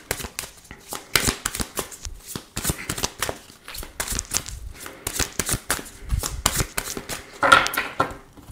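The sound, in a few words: shuffling a tarot card deck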